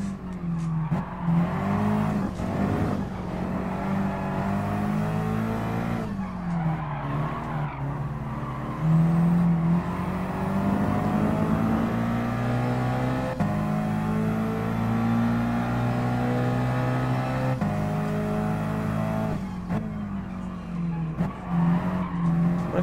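Front-wheel-drive race car in GT Sport, engine droning and shifting pitch steadily throughout with tires skidding and squealing, loud and continuous without talk.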